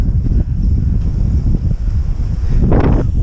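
Strong wind buffets the microphone in a continuous low rumble, with a brief louder gust near the end and no talking.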